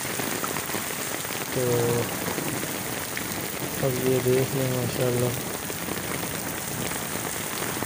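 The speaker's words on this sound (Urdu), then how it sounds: "اور بارش بھی جو ہے نا وہ شدید ترین لگی ہوئی ہے" Heavy rain pours down during a flood on the Nala Lai stream at Gujar Khan, a steady, dense hiss filling the whole clip while someone talks over it in short bursts.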